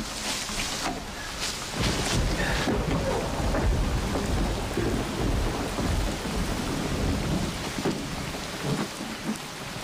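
A thunderstorm strong enough to knock out city power: heavy rain hisses continuously while rolling thunder rumbles and cracks through it, with no one speaking.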